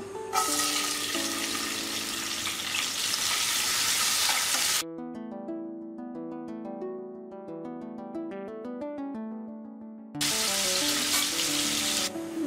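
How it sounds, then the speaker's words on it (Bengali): Garlic frying in hot mustard oil, a loud broadband sizzle that cuts out midway while a stretch of melodic music plays, then the dense crackling hiss returns. "এবারে আমি এই তেলের মধ্যে প্রথমে রসুনটাকে ভেজে নেব"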